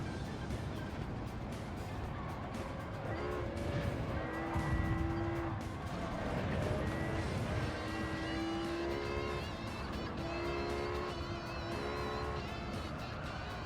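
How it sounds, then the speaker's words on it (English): Race cars in Gran Turismo 7 roar around the track, engines whining up and down through the gears in a loud, continuous pack sound, with occasional tire squeal and no talking. "these people seem to be colliding with each other all over the place"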